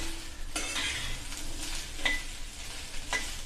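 Green chillies sautéing in hot oil make a close, steady sizzle, broken by three sharp stirring scrapes against the pan, with no voices.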